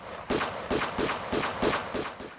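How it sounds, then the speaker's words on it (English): A rapid series of sharp gunshots, about eight cracks in quick succession, each with a short echo, fairly loud with no voices. "Gunshots in the early morning."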